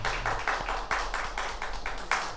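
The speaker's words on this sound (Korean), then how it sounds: "우리 성가대원들에게 다시 한번 우리 감사의 박수를 하겠습니다" A church congregation claps in thanks for its choir, a steady, evenly spaced beat of about eight hand claps at moderate volume in a reverberant room, with no voices over it.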